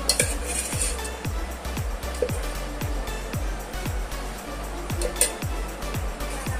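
Two spoons of ghee heating in a hot kadhai for dal fry give a steady low sizzle, while a spoon clinks and scrapes against the metal pan in a regular rhythm, close and continuous.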